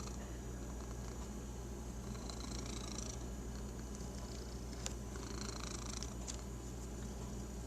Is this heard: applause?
no